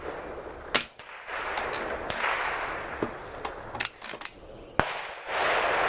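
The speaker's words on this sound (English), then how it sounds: "will be shooting the Ruger Air Hawk on the Caldwell rest" Ruger Air Hawk air rifle fired from a Caldwell rest at a target about 10 yards away, with a few sharp cracks and clicks over steady background hiss outdoors.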